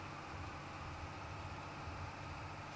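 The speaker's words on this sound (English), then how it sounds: "This tractor is definitely getting a workout" A tractor engine idles in Farming Simulator 22, a constant low, even drone with a steady rumble and no breaks, faint and alone.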